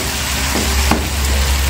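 Steak cooking with tomato, chili and onion in a hot pan, a loud continuous sizzle with a couple of brief stirring scrapes, no talking.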